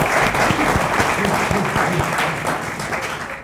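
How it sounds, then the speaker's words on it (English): An audience claps steadily in a hall for several seconds, the applause dense and even before fading a little toward the end. "So if we could give a round of applause."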